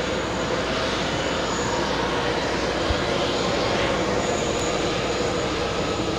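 Emirates Airbus A380 jet at JFK airport, a steady broadband engine roar that stays loud and constant throughout, with no talk over it.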